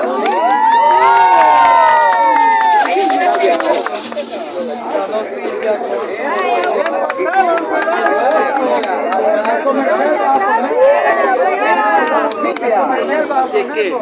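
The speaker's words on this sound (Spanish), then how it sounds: "Aplauso para Don Carlos." A crowd cheers and chatters loudly for the winner of a contest, with voices and shouts rising together at the start, then continuing as busy crowd noise with applause.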